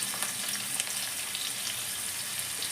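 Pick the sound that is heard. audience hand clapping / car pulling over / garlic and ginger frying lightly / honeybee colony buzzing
garlic and ginger frying lightly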